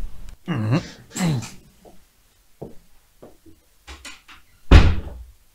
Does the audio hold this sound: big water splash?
no